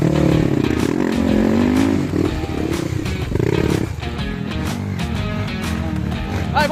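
A dirt bike on a motocross trail, its engine loud and close, revving hard and then easing off into a lower rumble, with people shouting and cheering over it.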